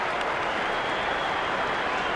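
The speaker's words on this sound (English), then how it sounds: "He applauds Tom Curran." Crowd applause at an England versus South Africa T20 cricket match, a steady broadband wash of clapping sustained and fairly loud throughout, with no voices standing out.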